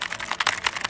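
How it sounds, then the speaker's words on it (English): Rapid clicky typing on a Dragon War Atomo mechanical keyboard with blue switches, a dense run of sharp, close keystroke clicks with no one talking. "these are super clicky keyboards because they're blue switches"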